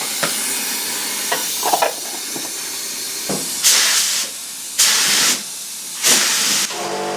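A paint spray gun hisses in three separate bursts while coating the roof and engine bay of a Daihatsu Charade, each spray lasting about half a second to a second, preceded by a few small handling clicks.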